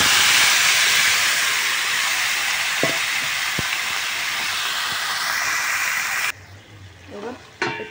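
Marinated chicken sizzles loudly in a kadai on the stove, a dense continuous hiss that cuts off abruptly near the end, leaving quieter kitchen sounds.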